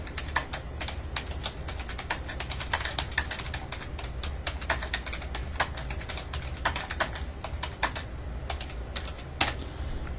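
Steady typing on a computer keyboard, a quick patter of crisp key clicks with occasional louder strikes, close and alone over a low hum.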